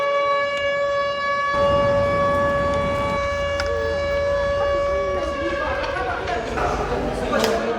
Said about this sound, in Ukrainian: у нас сьогодні повітряна тривога